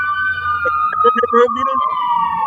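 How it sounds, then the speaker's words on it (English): A police siren wails steadily outside, its long tone sliding slightly, while someone speaks briefly over it. "You hear the sirens?"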